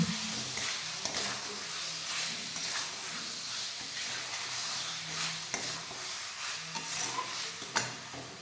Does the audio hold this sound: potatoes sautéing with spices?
yes